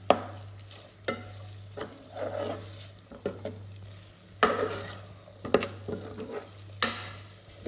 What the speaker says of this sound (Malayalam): നല്ല പോലെ മിക്സ് ചെയ്യണം മസാലയൊക്കെ നമ്മൾ ഫിഷിൽ നല്ല പോലെ പിടിക്കുന്ന രീതിയിൽ നന്നായിട്ട്